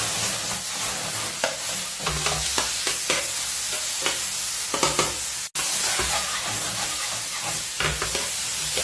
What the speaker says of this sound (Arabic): نحرك الطماط حتى يذبل شوية